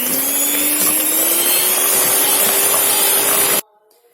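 An electric mixer beats coffee and palm sugar sponge cake batter with a steady, loud whirring drone that rises slightly in pitch, then cuts off abruptly near the end, leaving near silence.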